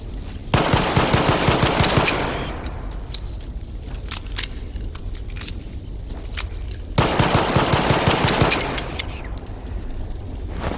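Pistol gunfire in the video game S.T.A.L.K.E.R. 2 cracks out in two rapid bursts of loud, closely spaced shots, with a few isolated single shots and clinking metallic echoes in the pauses between.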